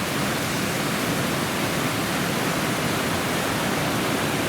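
Roaring River's rushing water pours as a steady, dense broadband roar, loud and constant throughout with no voices.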